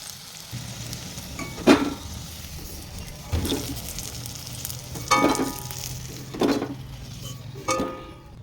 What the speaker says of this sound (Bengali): এখন আলুগুলো তুলে নেবো আর ওই আলুগুলো ভেজে নেব।